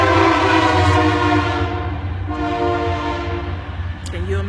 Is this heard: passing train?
yes